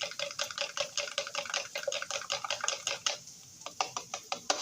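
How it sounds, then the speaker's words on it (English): Two eggs whisked briskly in a bowl for cornbread dressing, a fast, continuous run of light clicking taps from the whisk against the bowl, close and moderately quiet, with no talking. "mix your 2 eggs up really good"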